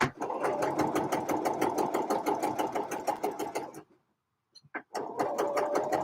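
A sewing machine stitches knit fabric in rapid, steady mechanical bursts, pauses for about a second with a few small clicks, then starts running again, all close up and without talk.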